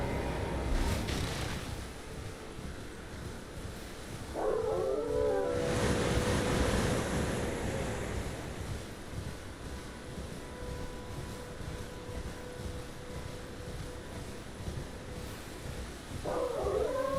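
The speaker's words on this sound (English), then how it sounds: "Hey, look, dogs." Dogs in the video game Elden Ring give two short, close howling yelps several seconds apart over a steady windy ambient hiss.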